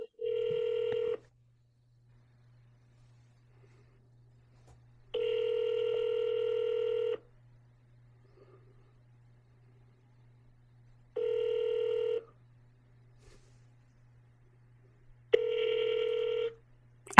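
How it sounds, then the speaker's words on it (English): Incoming call ringing on a phone connected to an AI receptionist service: four separate electronic ring bursts, each about a second long, with several seconds of near silence between them. The rings are clear and steady, and no one speaks. "And so that's ringing on my phone too"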